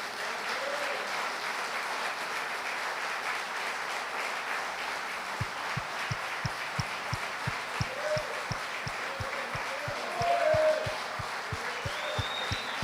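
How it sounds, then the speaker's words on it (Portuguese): Steady applause from a church congregation fills the clip, with a rhythmic clapping pattern joining in midway and a few faint voices rising briefly near the end. "quantos podem aplaudir a Deus"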